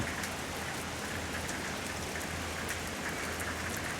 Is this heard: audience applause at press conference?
no